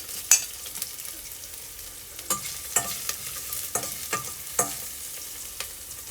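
Ginger stirring in a hot pan alongside garlic and onion for a Filipino laing sauté, a soft steady sizzle broken by several sharp scraping stir strokes at irregular intervals, close and without voices.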